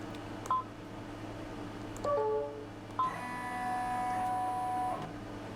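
An embroidery machine stitching an in-the-hoop rainbow pouch design with white thread gives a few short electronic beeps, then a steady mechanical whir for about two seconds, close and fairly quiet.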